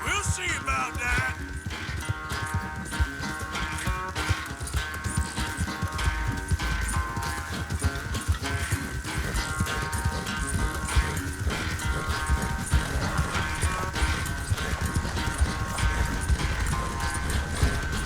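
Horse hooves clip-clop at a steady trot across terrain in Red Dead Redemption 2, a continuous rhythmic thudding mixed with ambient game sound, with voices talking faintly over it.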